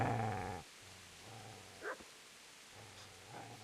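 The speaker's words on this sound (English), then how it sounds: "Get away, you mutt!" A dog growls and snarls in a video game cutscene, a few short low rumbling bursts between brief quiet gaps, fairly faint and close.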